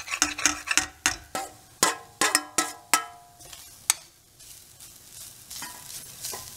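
Grated coconut being stirred and sautéed in a pan for coconut laddu, with a rapid series of sharp spoon scrapes and knocks against the pan over a low sizzle, then slower, fainter stirring.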